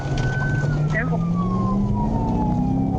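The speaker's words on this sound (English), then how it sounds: "the trooper activated his emergency lights and sirens, initiating a pursuit" A police car siren wails steadily during a high-speed pursuit after a routine traffic stop, sweeping tones loud and continuous over road and engine noise.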